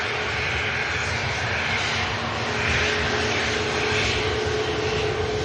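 Jet engines of a Boeing 737 MAX 8200 taxiing at Manchester Airport give a loud, steady roar with a faint whine, constant throughout and heard alone.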